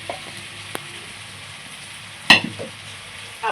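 Cut potatoes frying in a pan for a Maharashtrian puri bhaji, a soft steady sizzle with one sharp clatter of stirring partway through and a few light utensil knocks near the end.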